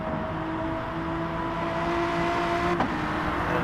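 BMW race cars in GT Sport lap the Nürburgring Nordschleife, engines holding a steady high whine with a brief gear-change dip, one car close behind another.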